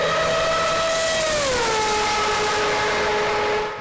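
A pistonless Wankel rotary engine runs with a steady, loud high-pitched whine, its tone dropping smoothly partway through as revs fall, then holding a sustained buzzing drone before fading slightly at the end.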